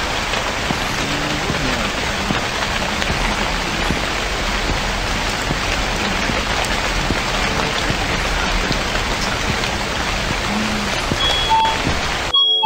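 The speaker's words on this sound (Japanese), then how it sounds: "雨の降り方エグいな。" Heavy rain pours outside a night-shift convenience store in a video game, a dense, loud, unbroken hiss of rain striking surfaces that fills the whole stretch, with faint voices in the background.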